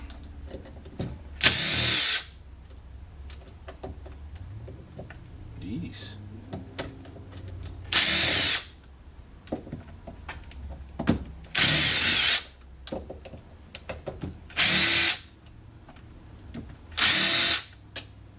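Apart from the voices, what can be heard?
power drill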